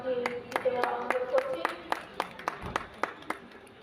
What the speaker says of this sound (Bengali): সকলকে একটু করতালি